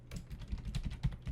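Rapid keystrokes on a computer keyboard as code is written, a quick, uneven run of soft clicks at close range with no talk over them.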